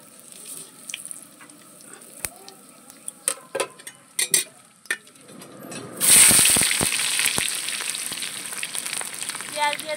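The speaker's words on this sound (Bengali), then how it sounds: "এখন ফোড়নে দেবে এই যে তেজপাতা, জিরে আর শুকনো লঙ্কা হচ্ছে তেলে দেওয়া হয়ে গেছে" Bay leaf, cumin and dry chilli hit hot oil in a pan with potatoes: scattered clinks and knocks first, then a sudden loud hiss that settles into a steady sizzle.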